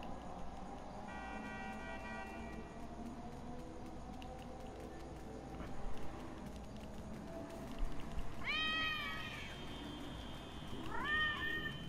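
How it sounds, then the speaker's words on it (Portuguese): Several cat meows from a playable cat in GTA V on PS4, with clear harmonic cries around the middle and end over steady game ambience and low background noise. "aí nós nos transformamos nesse bichano aqui"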